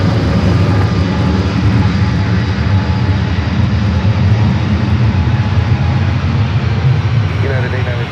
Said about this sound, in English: United A321neo now rolling down to 1 right.